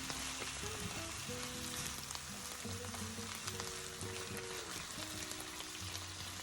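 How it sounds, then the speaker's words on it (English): Sauce simmering in a pan, a steady soft bubbling sizzle with low-pitched burbling pops running throughout at moderate, even loudness, with no talk. "we're just going to let this simmer for about 3 minutes until the sauce thickens a little bit"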